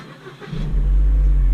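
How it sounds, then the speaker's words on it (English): A 2008–2016 Holden Cruze engine cranks and catches after a quiet moment, then settles into a loud, steady idle right up close. "Press the brakes and start the car."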